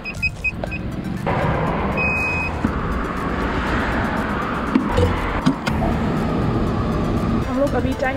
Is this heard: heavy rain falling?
no